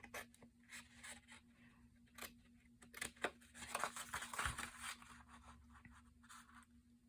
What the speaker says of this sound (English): So we're going to take care of that with the scissors and hope for the best.